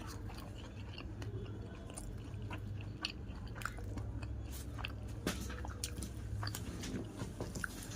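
Close, soft chewing and biting of a coriander leaf paratha eaten with chickpea curry, with steady moist crunching and small scrapes at a quiet table.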